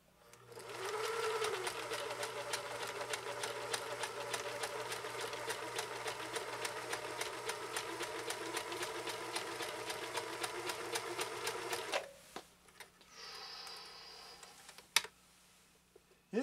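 A 1974 Kenmore 1050 sewing machine drives a zigzag stitch through three layers of compressed felt. It makes a close, rapid, even mechanical clatter for about twelve seconds, then stops, and faint handling noises follow.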